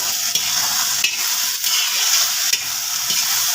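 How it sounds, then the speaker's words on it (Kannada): Okra frying in oil with salt, a steady bright sizzle with brief stirring scrapes at intervals and no talking. "ಜಲ್ದಿ ಹುರಿತಾವ್ರಿ ಎಣ್ಣೆ ಹಾಕೋಣ ಇಲ್ಲ ಒಳ್ಳೆ ನೋಡ್ರಿ ಉಪ್ಪು ಹಾಕೋಣ ಉಪ್ಪು ಹಾಕಿ ಹುರಿಯೋದ್ರಿಂದ"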